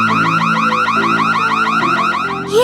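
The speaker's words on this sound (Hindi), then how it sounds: "ये अलार्म क्यों बज रहा है?" Store anti-theft alarm sounds at a checkout, a loud rapid warbling electronic siren repeating in quick sweeps before cutting off, with no talk over it.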